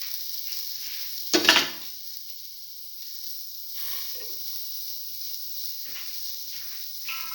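Garlic and green chillies frying in a pan for a black lentil stew, a steady high hiss of hot oil with a sharp burst of sizzle and clatter as they drop in, then quieter frying and occasional stirring.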